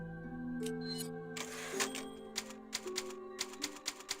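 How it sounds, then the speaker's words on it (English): A typewriter in Resident Evil 4 clacks out a quick series of sharp keystrokes and a bell-like ding after a soft tonal chime, the strikes close and distinct against near silence. "It's a typewriter."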